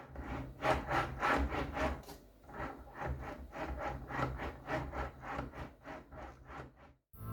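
Turtle Beach VelocityOne rudder pedals for Xbox and PC creak and rub in a steady back-and-forth rhythm as they are moved, a close, dry, grinding creak repeating for several seconds with no talk.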